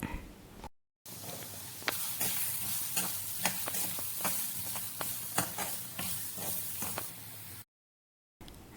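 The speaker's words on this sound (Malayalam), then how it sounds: "അതിലേക്ക് ഒരു സ്പൂൺ മല്ലിപ്പൊടി ചേർത്ത് പച്ചമണം മാറുന്നവരെ വഴറ്റിയെടുക്കുക" Bitter gourd curry in a pan with a spoonful of coriander powder being sautéed: a close, dense sizzle with rhythmic scraping strokes of the spoon, loud and continuous, with no voices.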